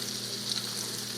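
Country fried steaks sizzle steadily in a frying pan, a soft, even crackle of hot oil with no talking.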